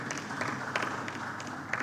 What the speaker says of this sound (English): Can we give him another round of applause again?